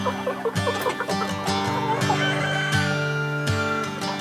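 Chickens cluck loudly and repeatedly inside homemade chicken crates, close by, with overlapping squawks and a longer crowing call partway through.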